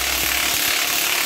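A ratchet wrench turns a socket to press out a spring bush on a Land Rover Series 2a front axle, a few quick clicking pawl strokes over a steady hiss of background noise.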